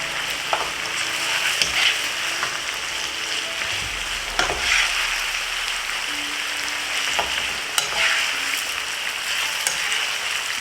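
Geera pork frying in a pan, a continuous bright sizzle broken by occasional scrapes and knocks as the meat is stirred, close and fairly loud with no speech.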